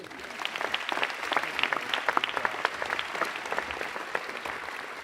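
An audience applauds at the dedication of the David B. Miller Business Quadrangle, home of the Cox School of Business, with steady, dense hand clapping of many people lasting several seconds.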